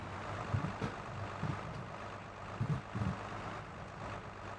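Tractor engine in Farming Simulator 22 working a field during compaction, a steady low rumble with a few soft thuds and bumps, moderately quiet with no talk.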